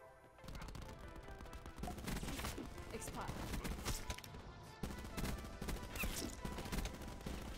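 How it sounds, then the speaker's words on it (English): Shotgun fire in the video game Black Ops 4, with rapid, repeated sharp blasts and bursts of gunfire fairly faint in the mix. "people are trying to kill me with shotguns"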